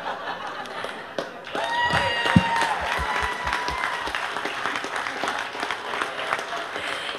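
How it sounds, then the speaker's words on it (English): Audience applause at a Down Syndrome Association of Central Texas calendar event, a sustained wash of clapping from a crowd swelling after a short lull and continuing steadily, with faint voices in the mix. "Let's give him a round of applause."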